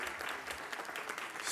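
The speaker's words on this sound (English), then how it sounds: "Give them a round of applause as well." Audience applause at a town board meeting: a steady, dense burst of clapping from a seated crowd that holds for the full moment with no talk over it.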